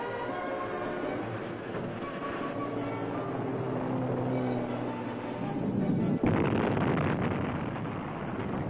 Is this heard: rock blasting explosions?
yes